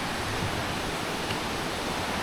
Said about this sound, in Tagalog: Medyo malapit naman na tayo kasi lumalakas na yung tunog ng falls.